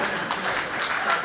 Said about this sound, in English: Go ahead, clap it up for Dan.